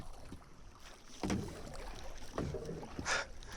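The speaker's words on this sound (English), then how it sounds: "Let me go over here and then spin the kayak around." Kayak paddling and turning on Mirror Lake in Lake Placid, with soft paddle splashes and water movement against steady wind noise on the microphone, a sharper splash near the end.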